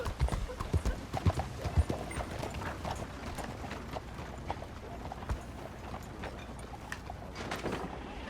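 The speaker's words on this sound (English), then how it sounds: "Looking for a place to hitch my horse." Horse hooves clip-clop steadily in the Red Dead Redemption video game, a fairly quiet, even walking rhythm of clops over light background noise.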